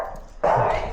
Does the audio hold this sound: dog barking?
yes